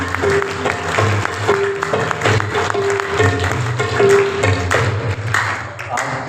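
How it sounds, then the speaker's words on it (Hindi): A church congregation at a Christmas Pakmas gathering at St. Michael's Church claps loudly together, a dense steady round of applause with some tapping and ringing tones mixed in and voices underneath. "तालियां"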